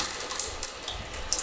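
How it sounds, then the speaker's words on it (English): Regular tap water runs into a sink while developed film reels are rinsed, a steady hiss with small splashes and light clinks throughout. "we're going to take out the reels and rinse them in some regular old tap water."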